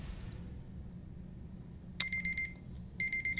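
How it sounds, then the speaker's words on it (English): Electronic alarm goes off abruptly partway through, with steady repeating high beeps that pause briefly and resume, fairly loud against a quiet background hum. "My alarm."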